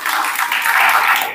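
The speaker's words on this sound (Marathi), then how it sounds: "आपण टाळ्या वाजवाव्यात." Applause from an audience at a Buddhist dhamma course opening ceremony, a steady wash of many hands clapping that stays loud and even throughout.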